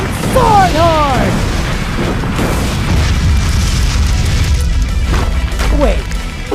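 A loud booming fire blast rumbles continuously in an animated battle, a Fire Dragon Sword Horde attack, with a shouting voice over it.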